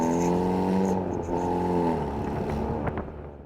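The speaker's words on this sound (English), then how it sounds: "Definitely good to keep the valved exhaust in this car." Hyundai Veloster with a valved exhaust and Depo Racing downpipe revving close by, a loud throaty engine note that climbs, holds and then eases off, with no voices.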